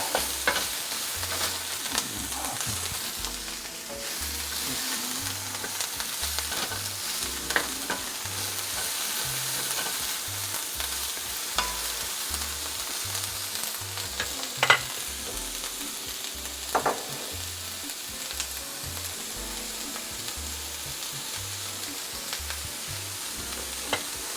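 Garlic fries in a pan with shrimp, a steady close sizzle and crackle with rhythmic stirring scrapes throughout and no talking.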